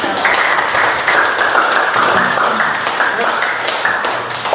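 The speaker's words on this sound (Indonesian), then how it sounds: "kita kasih tepuk tangan untuk" Classroom audience at a teacher training session claps together, steady overlapping hand claps close by and fairly loud, with faint voices mixed underneath.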